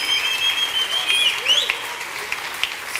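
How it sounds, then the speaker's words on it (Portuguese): A burst of church congregation applause, many hands clapping together with a few scattered cheers rising over it, then tapering off. "Aplauda Jesus por isso."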